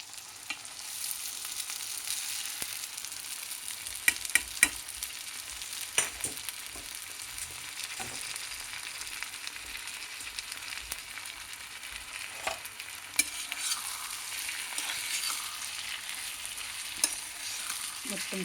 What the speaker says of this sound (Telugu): మొత్తం కలుపుకోవాలండి. కింద మీద అంతా పూర్తిగా కలుపుకోవాలి.